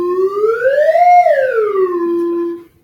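A whistle blown in a physics lecture hall, one long sustained tone that glides upward to a peak and then slides back down over almost three seconds, loud and clear, with no talking over it.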